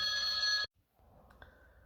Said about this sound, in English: Sorry, I had a phone call.